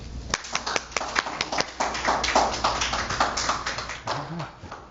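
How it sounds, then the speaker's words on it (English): Audience applause at a library author talk, a small crowd clapping steadily and fairly close for several seconds, with a voice briefly heard near the end. "Thank you for the warm applause."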